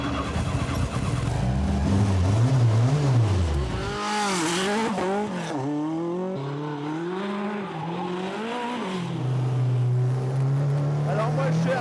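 A Peugeot 205 T16 rally car's engine roars from inside the cabin while driving, its revs rising and falling in loud sweeps through gear changes.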